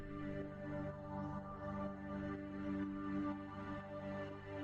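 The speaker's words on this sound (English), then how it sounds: "And then the first of the pad sounds." A sustained synth pad from a Diva soft-synth patch, soaked in vintage-style reverb and spread wide in stereo, holds steady chord tones at a moderate level with no voices, swelling gently in a melodic house arrangement.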